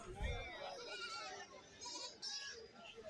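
Goats at a livestock market bleating in short wavering cries amid people talking and general market bustle.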